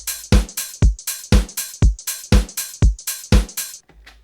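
A programmed Ableton drum beat with a steady kick and snare pulse and swung closed hi-hats giving a loose, groovy shuffle, clear and alone with no voices.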